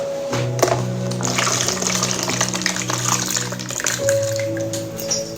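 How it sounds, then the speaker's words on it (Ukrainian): Gravy pouring and splashing into a food container, a continuous wet trickle over faint background tones. "Зробила вже підливочку, яку зараз перелью в лоточок."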